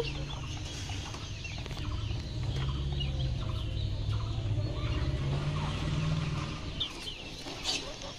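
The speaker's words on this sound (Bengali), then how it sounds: "আর এখানে আছে ছোট ছোট কিছু মুরগি।" Small chickens kept in a rooftop garden cluck and murmur nearby in a busy, overlapping stream, with a few sharper calls toward the end and no speech.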